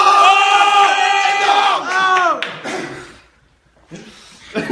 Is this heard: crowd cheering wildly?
yes